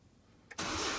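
The engine of a 2010 Citroen Dispatch van turns over with a brief crank, then catches and settles at once into a loud, close, steady idle.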